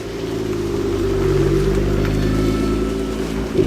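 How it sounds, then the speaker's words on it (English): A loud car engine idles and revs at a used car dealership, a steady deep rumble with strong low-pitched harmonics that swells slightly midway and holds throughout, with no talk over it. "I was going to say, that car is loud. Just give it a little rev there."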